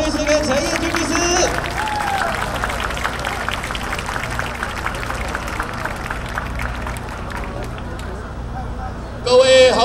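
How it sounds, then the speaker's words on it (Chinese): Applause from an audience at an evening rally welcoming two lawyers onstage, a sustained wash of clapping and crowd murmur that fades slightly before an amplified voice cuts in at the end. "我们掌声欢迎顾立雄律师跟陈彦君律师"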